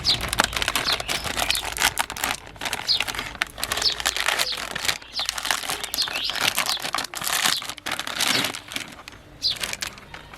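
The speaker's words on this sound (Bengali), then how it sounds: "কর্নের প্যাকেটটাকে কেটে নিই।" A sweet corn packet being cut open, with close, busy crinkling and rustling of plastic and sharp snips that keep going steadily.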